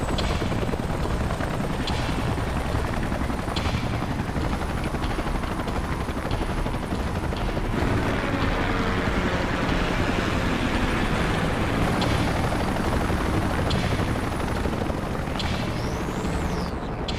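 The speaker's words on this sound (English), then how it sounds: "Let's call in the salvage choppers and get it out of here." Helicopters from the game Xenoblade Chronicles X, salvage choppers called in to haul cargo away, drone loudly and steadily with heavy rotor thumping and a high turbine whine throughout, close and continuous with no talk over it.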